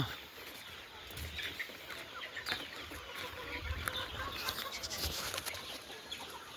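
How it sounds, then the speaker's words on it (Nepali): Chickens cluck and call in a noisy outdoor poultry farm, with scattered faint clucks and rustling over a steady background hiss. "फार्मतिर खेल्दैछन् कुखुराहरू"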